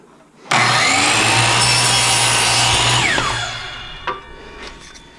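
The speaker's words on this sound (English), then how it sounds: "Take this over here to the miter saw, and we're going to cut this" A miter saw slices through a wooden block for a turkey call handle, one loud continuous cut lasting about three seconds with a steady motor hum, then winding down to quiet with a small knock.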